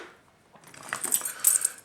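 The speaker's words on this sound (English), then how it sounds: "Keys." Keys used as a self-defense training prop give a short bright metallic jangle and clink, close and fairly quiet, that builds after a near-silent start and lasts about a second, with no voices.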